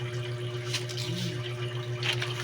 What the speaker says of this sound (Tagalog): Kulo na po yung tubig niya.